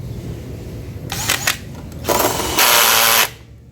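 Bitec CSR 12-2 cordless drill tightening, loud close bursts of motor whine starting and stopping, then one longer sustained run that cuts off abruptly.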